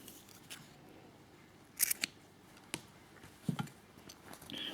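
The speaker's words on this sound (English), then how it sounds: "cut your yarn off" Scissors snip through yarn while a knitted winter hat brim is finished, giving a quick pair of crisp, close cuts followed later by another short snip, with a quiet room in between.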